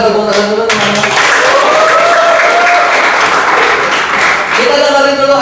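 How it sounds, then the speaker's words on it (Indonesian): Participants at an Indonesian discussion forum break into brisk applause, a dense wash of clapping with voices briefly audible at its start and end. "Oke, boleh tepuk tangan dulu teman-teman."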